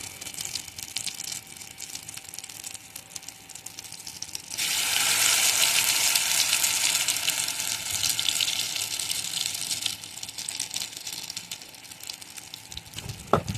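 Soybean muittha dumplings frying in hot oil: a steady sizzle that jumps to a loud, bright crackle as the dumplings go in, then settles back into a softer, continuous fry.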